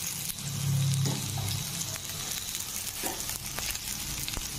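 Chopped tomatoes and curry leaves fry in a pan with turmeric and red chilli powder, giving a loud, steady sizzle with occasional stirring scrapes throughout.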